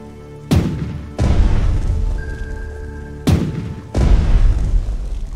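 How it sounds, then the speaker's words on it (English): Artillery strikes in the Pacific war strategy game Strategic Mind: The Pacific, set at Guadalcanal: two loud, deep booms roughly three seconds apart, each followed by a long rumbling tail. No talk. "they're both attacking artillery units"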